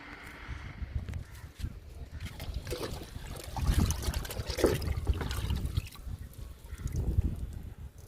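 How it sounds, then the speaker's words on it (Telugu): Liquid fertiliser made from sweet potato peels poured onto a lemon plant, soft close trickling and splashing that swells and fades in uneven bursts, fairly quiet, no speech. "నిమ్మ మొక్కకి ఇచ్చేద్దాము గెనిసిగడ్డ లిక్విడ్ని"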